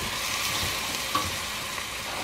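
Red lentils, 1.5 cups of them, go into a hot pot for a Ramadan meal, setting off a steady, dense sizzle of frying with stirring noise throughout, close and fairly loud with no voices.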